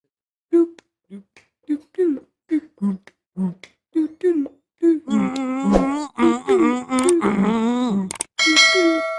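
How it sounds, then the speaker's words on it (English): A bright chime rings out at the end, following a stretch of rhythmic, choppy speech-like sounds. "click that notification bell"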